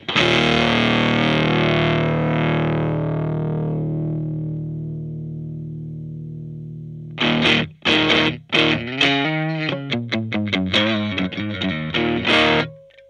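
Fender Stratocaster electric guitar with single-coil pickups played through an overdrive/distortion pedal: one long sustained distorted chord rings and fades for about seven seconds, then a quick run of loud, choppy riffed notes and short chords follows.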